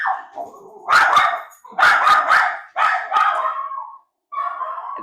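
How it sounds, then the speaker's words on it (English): A dog barks in several short, loud, close bursts with brief gaps between them, alone without talk, inside a home. "I'm going to wait until my dog stops barking"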